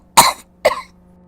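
A woman coughs right after a swig of strong bourbon from a flask: two sharp, close coughs about half a second apart, each trailing off quickly, in a quiet room with no other sound.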